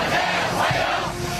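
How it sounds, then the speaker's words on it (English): A large crowd roars and cheers loudly and continuously at President Trump's welcome in China, a dense wall of voices with no gaps and no speech over it. "You can't even hear the plane engines in this one because the crowd is so loud."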